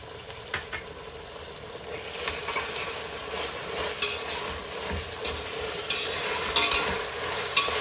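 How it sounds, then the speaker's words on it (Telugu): Ginger garlic paste frying in a pan for Hyderabadi kheema: a loud, crackling sizzle close up, with repeated scraping and clinking of a spatula that grows busier toward the end. "అల్లం వెల్లుల్లిపాయ పేస్ట్ పచ్చివాసన పోయే వరకు వేయించుకోవాలి"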